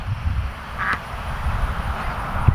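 Farm ducks quack a few times against an outdoor background, with short nasal calls standing out over steady low noise.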